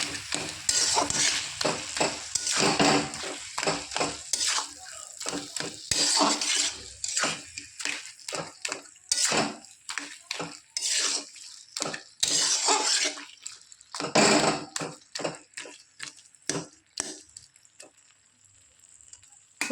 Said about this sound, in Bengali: এবার খুন্তিতে একটু ঘেটে দেবো।